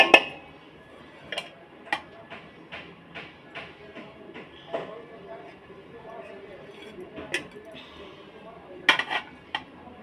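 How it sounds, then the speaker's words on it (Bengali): Cooked rice being added to a pot of meat and mixed, with irregular clinks and knocks of a utensil against the pot beneath a person talking. "এ দেখো ভাতটাকে আমি দিয়ে দিচ্ছি।"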